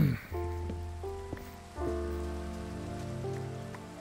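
Steady rain falls throughout in Minecraft VR, a dense even hiss of drops on surfaces, accompanied by a game music tone pattern and no talking.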